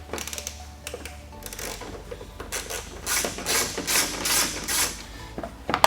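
A 10mm socket ratchet clicks rapidly while backing out the bolts on a Jeep JL factory headlamp. Close, dense clicking builds louder through the second half.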